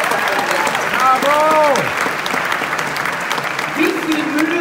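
An audience at the Graz Opera Ball applauds the Graz Opera ballet school in a large hall, steady dense clapping that carries on throughout, with voices and cheers calling out over it.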